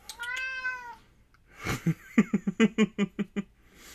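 A cat named Cookie gives one long, clear meow nearby, followed by a quick run of short chirping meows after a brief pause.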